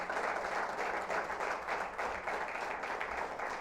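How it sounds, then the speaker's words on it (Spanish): A church congregation claps and applauds together in a dense, steady burst of clapping lasting a few seconds, with no speech over it. "dale un aplauso a Dios si lo crees entonces"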